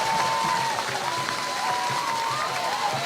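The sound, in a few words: Hornet fans cheering at a high school baseball game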